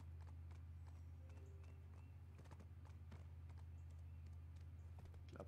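Faint horse hooves clip-clop at a steady walking pace over a low, constant hum in the video game Black Desert.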